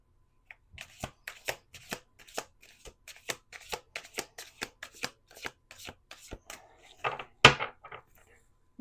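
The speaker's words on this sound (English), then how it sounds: "Let's do two more shuffles." Cards riffling and snapping in quick, sharp bursts, close up, ending with a louder flurry as the deck is bridged back together.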